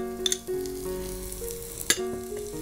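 Finely chopped onion frying in hot oil, a close, steady sizzle with a few sharp spatula knocks and stirring scrapes, over a faint tonal hum.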